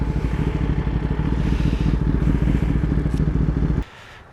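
A Kawasaki ZX10R superbike on Bangalore's airport road at night gives a loud, steady, close engine drone with rapid pulsing, then cuts off abruptly near the end.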